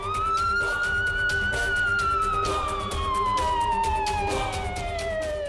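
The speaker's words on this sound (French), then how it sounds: "C'est le son de la sirène." A police siren wails loud and continuous, its pitch sliding slowly up and then down in a long sweep, with no talk over it.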